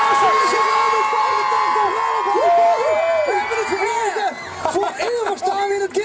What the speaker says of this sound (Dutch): Jongens, applaus voor jezelf.